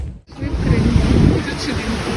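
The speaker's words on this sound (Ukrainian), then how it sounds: "Сьогодні ми прямо біля моря." Steady sea surf washes along a shore by the sea near Odesa, a broad continuous roar mixed with wind buffeting the microphone, close and fairly loud with no clear speech.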